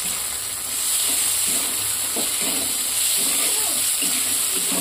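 Chopped tomato and onion fry and get stirred in a pan for ghugni, a close, steady sizzle with scraping stirring strokes over a constant background hiss, no voices.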